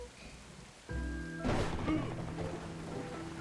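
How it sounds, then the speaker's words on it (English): Thunder and rain in a Moomin video game: steady hiss of rainfall with a heavy thunderclap rolling in midway, a deep rumble that lingers under the rain, close and fairly loud. "Now we wait for the next thunderclap"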